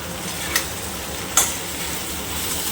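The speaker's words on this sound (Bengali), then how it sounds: "ভেজে রাখা মাছের মাথাগুলো দিয়ে দেবো, কাতলা মাছের মাথা এই মশলার মধ্যে দিয়ে দিলাম।" Fried catla fish heads go into sizzling spice masala in a pan, a steady hot frying hiss with two sharp clinks of a utensil against the pan, no talking.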